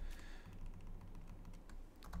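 Rapid typing on a computer keyboard during a Java programming exercise, a close, dense run of light key clicks with a few sharper taps near the end and no talking.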